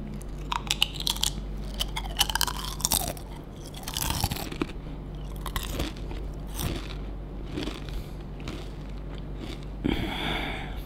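Close, crisp crinkling of a Mr. Potato snack package with crunchy crackles and rustles, irregular bursts continuing throughout, no talking.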